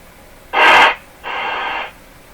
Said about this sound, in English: we're just listening to the radio hiss